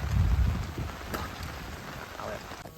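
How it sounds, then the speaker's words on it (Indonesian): Rain falls on a campsite on a hill between Mount Merapi and Mount Merbabu, a steady patter of drops with a heavier rumble at the start, heard close by without talk. "Suasana hujan"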